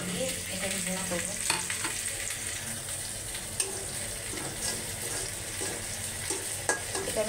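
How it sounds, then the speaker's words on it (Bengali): Chilies and other ingredients sizzling and being stirred in a hot pan, a steady close frying crackle with scraping stir strokes throughout. "এটা আমি একটু কষাই নেবো"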